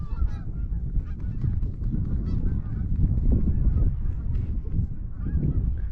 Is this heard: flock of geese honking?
yes